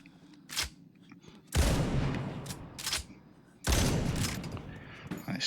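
Shotgun blasts aimed at walkers in the zombie video game TWD: Onslaught, two heavy booming shots with long rumbling tails, separated by quieter clicks and handling noises of cycling the gun.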